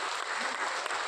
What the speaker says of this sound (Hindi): लगातार तालियों के ध्वनि के साथ, लगातार।